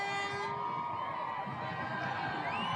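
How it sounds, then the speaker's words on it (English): Crowd screaming and cheering along Broad Street at the Philadelphia Eagles Super Bowl victory parade, a sustained wash of high shrieks and whoops from many children and adults, steady and fairly distant throughout. "You can hear the screams and all of the excitement"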